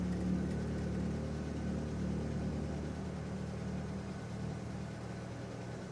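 A Jeep engine with a carburetor runs at a low, steady idle, a faint, even mechanical rumble that eases slightly toward the end, with no talking over it.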